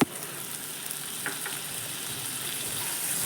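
Yogurt being stirred into spices frying in a pan for a duck egg curry, giving a steady close sizzle throughout with a few faint scraping touches and no talk.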